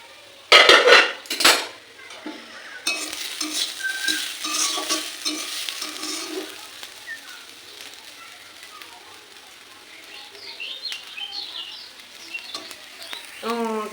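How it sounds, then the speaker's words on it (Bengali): Banana stem sizzles and fries in a pan while utensils clatter and stir against it, with brief talk near the start. "চলো আমার থোর ভাজা কদ্দূর হয়েছে একবারে দেখে নাও"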